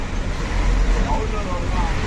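Evening road traffic in Chakan, Pune: a steady, loud wash of car, bus and truck engines and tyre rumble filling the whole clip, with no clear pauses.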